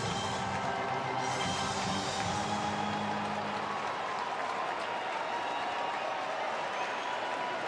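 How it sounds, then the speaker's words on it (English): A baseball stadium crowd between the Dodgers and Phillies applauds and cheers in a broad, steady roar that swells early and then stays constant, with a broadcaster talking faintly underneath. "Crowd starting to swell a little bit."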